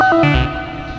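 A loud synthesizer triangle wave from a dual sample and hold module shifts quickly in pitch, gritty and distorted, then trails off into an echoing decay.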